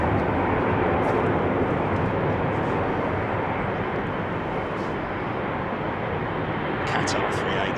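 An ex-KLM Boeing 747 Combi freighter with one smoky engine rolls for takeoff at Heathrow, a loud, continuous broadband jet roar filling the whole stretch, with voices faintly present.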